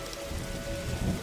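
Steady rain patters on a roof in the video game The Darkside Detective, a soft, even wash heard alone in a short burst.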